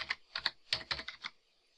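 Quick, crisp keystrokes on a computer keyboard as a password is entered, about seven close, distinct taps in a short burst, then quiet.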